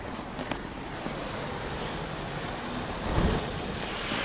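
Sea waves wash and crash against a breakwater in Valletta, Malta, as a steady roar of surf and wind with a slightly stronger surge near the end.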